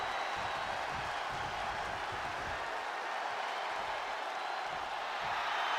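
Steady roar of an arena crowd cheering in the wrestling game WWE 2K25, a dense continuous wash of noise at even loudness, with a commentator's voice faintly present beneath.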